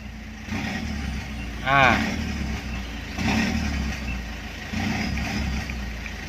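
A Ford Ranger 2.2 runs with an electronic throttle box set to a sound mode, giving a steady moderate engine drone that swells in a few surges, while someone talks over it.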